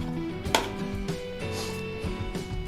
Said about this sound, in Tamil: இந்த காம்பு பகுதியை மட்டும் நம்ம லைட்டாக கட் பண்ணிடலாம்